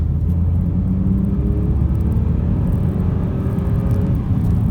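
A 2016 Hyundai i10 with a 1-litre three-cylinder engine pulls through the gears from inside the cabin, a steady low drone and whirring rumble with rising engine tones, moderately loud and without speech.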